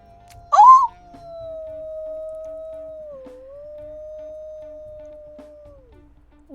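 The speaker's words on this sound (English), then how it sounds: "One of the squeaky howls." Squeaky howl of a wolf pup in the video game WolfQuest: one long, thin wavering call with a brief yelp at its start, close and fairly quiet, holding for several seconds before it trails off.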